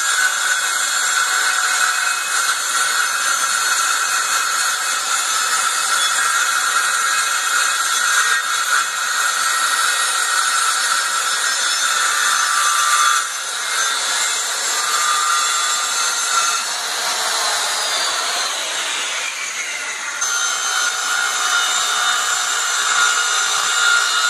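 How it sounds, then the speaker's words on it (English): Power saw cutting wood trim for a church sign, a loud continuous high-pitched whine held steadily throughout, with slight shifts in pitch as the blade works through the wood. "cut this line right here 3/8 deep, and then we'll come back and cut an inch deep the other way"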